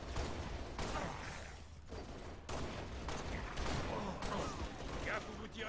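Gunfire in the video game Halo Reach, dense bursts of rapid shots rolling on almost without a break, loud and close, with faint game voices underneath.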